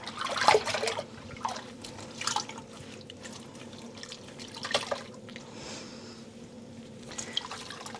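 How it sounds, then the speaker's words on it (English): Dyed cashmere yarn skeins rinsed in a tub of cold water, with soft sloshing and intermittent drips and splashes, close and fairly quiet. "I want to give it one more rinse. Get a little bit more of that excess dye out."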